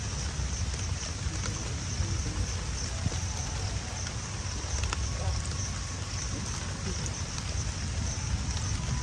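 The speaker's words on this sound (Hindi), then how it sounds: "मतलब हाँ बारिश हो रही है।" Rain falls steadily and continuously outdoors, a dense broadband patter close to the recorder with occasional louder drops, no voices heard.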